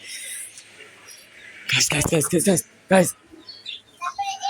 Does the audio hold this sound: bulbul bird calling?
yes